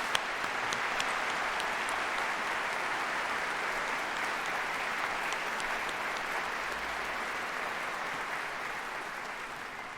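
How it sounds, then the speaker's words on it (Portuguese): Audience applause at a tribute event, a dense, steady wash of many hands clapping that carries evenly for about ten seconds and slowly tapers at the end, with no talking. "para quem eu peço uma salva de palmas"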